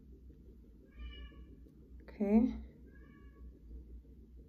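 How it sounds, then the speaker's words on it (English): House cats meow a few times, a faint call early, then a louder, drawn-out meow in the middle and a softer one after, under quiet room tone with a brief spoken word. "Y'all have to excuse my cats."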